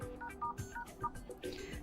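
Keypad tones sound as a code is entered on a Xiaomi 15T phone dialer, several short beeps in quick succession, quiet, with faint background noise.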